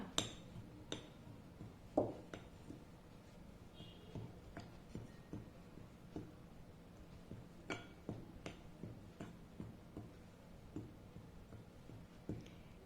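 Wheat flour is stirred with baking soda and baking powder in a bowl, giving quiet, irregular taps and light clinks of a utensil against the bowl across a soft background.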